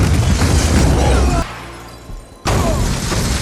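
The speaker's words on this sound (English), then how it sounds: "that explosion was crazy" A loud, rumbling explosion from the film Fast and Furious 7 roars with debris-like crackle, drops away briefly, then surges back just as loud and noisy.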